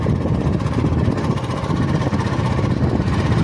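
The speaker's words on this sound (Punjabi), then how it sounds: "ਆ ਵੇਖ ਹੁਣ ਟਰੈਕਟਰ ਆਂਦਾ ਪਿਆ" A tractor engine drones steadily on a foggy winter road, a continuous low mechanical rumble that stays loud and even throughout, with no voices.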